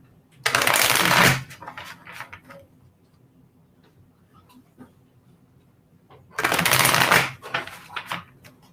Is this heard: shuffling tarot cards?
yes